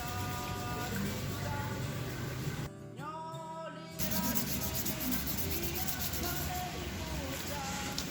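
A slingshot being hand-finished with fine 2000-grit sandpaper gives steady rubbing and sanding strokes that carry on throughout, briefly dropping out, while background talk is heard.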